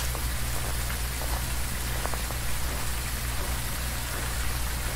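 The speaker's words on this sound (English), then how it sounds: "now this time the rain decides to put it out" Rain falls steadily in the ghost-hunting video game Phasmophobia, a dense unbroken hiss over a low constant hum with a few faint drips standing out.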